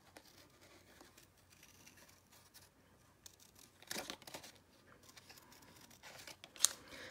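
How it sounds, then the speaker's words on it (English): Scissors fussy cutting cardstock by hand, faint soft snips and paper rustles in a quiet room, with a few louder crisp cuts toward the end. "when I'm fussy cutting, I actually steer my cardstock in the direction the scissors are going"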